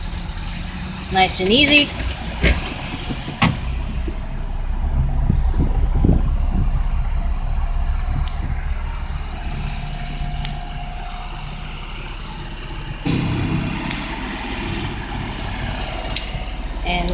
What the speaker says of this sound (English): Now let's start it.